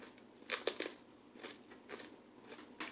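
Crunchy bites into hot and spicy pizza topped with chicharon, its crust edges stuffed with mozzarella: a quick cluster of close, crisp crunches, then a few softer chewing crackles spaced apart.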